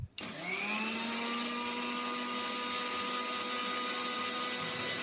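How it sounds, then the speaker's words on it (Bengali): A kitchen blender starts up and runs steadily at low speed, blending homemade mayonnaise with soybean oil, giving a loud continuous motor whir after a short click at the start. "তারপর আমি এটাকে ব্লেন্ড করে নিব"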